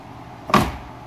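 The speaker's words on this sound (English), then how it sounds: "Door closes all right." A Chevrolet Chevelle door shuts once, a single solid thump with a brief rattle, close by, against a quiet background.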